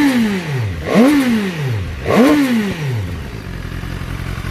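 A 2020 BMW S1000R naked motorcycle engine revved twice, pitch climbing sharply then falling away each time, loud and close, settling to an idle rumble.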